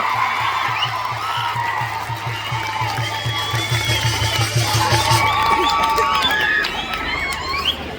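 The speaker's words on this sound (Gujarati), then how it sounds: "ભાઈ શ્રી ચેતરભાઈ અને આનંદભાઈ ને જોરદાર તાળીના ગણગણથી સન્માન કરો." A rally crowd claps and cheers together for two honoured men, with steady rhythmic applause, whoops and shouting voices filling the space close around.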